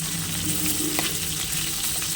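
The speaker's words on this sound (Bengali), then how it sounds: "আজকে আমি পালং শাকটা ভাজবো" Spinach frying in a pan gives a steady, fairly loud sizzle with a low hum underneath and a brief clatter in the middle.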